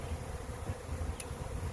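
A swarm of honeybees hums steadily outdoors near a hive box, a low continuous buzz with no voices.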